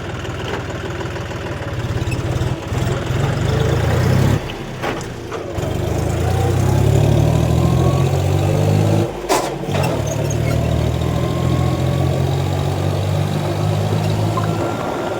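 A diesel tractor engine runs steadily nearby in a village setting, a continuous low chugging drone with a brief dip around the middle, no voices.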